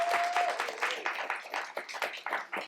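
Audience applause for a poet at a poetry slam in a public library, a room of clapping hands that swells and wavers in uneven bursts before stopping abruptly.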